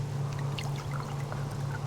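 Water pours in a steady stream to make berry water in the survival video game Subsistence, a continuous trickling close up and alone, over a low hum.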